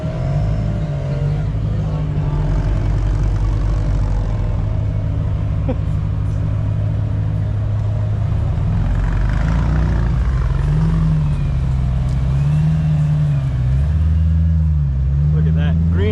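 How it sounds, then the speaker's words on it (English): Car engines idle and rumble nearby, with a low motor drone throughout and a rising rev toward the end, as vehicles roll in and people chat in the background. "Beautiful cars coming in, guys."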